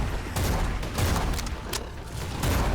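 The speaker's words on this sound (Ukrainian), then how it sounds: "Ой, який вибух, а?" A burst of loud, crackling blasts and booms from the video game Bloodshed, several sharp bangs rolling one after another without speech.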